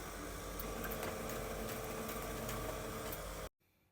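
A sewing machine running a straight stitch on a plushie, a fast steady whirring close by for a few seconds before stopping abruptly.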